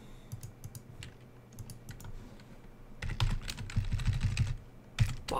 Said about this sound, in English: Some interesting names if you start typing random characters into the search.